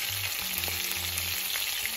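Steady sizzling of chicken frying in hot oil, a continuous crackling hiss close by with no voices.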